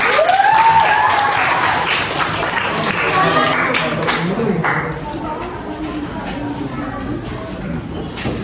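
Classroom applause from a group of students bursts out loud and close, a dense rapid clatter of hands that carries on for several seconds before easing off.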